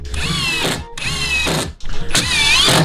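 A power drill drives screws into a cedar lathe blank, with three loud whining bursts, each rising in pitch and ending in a short grinding bite as the screw seats, separated by brief pauses.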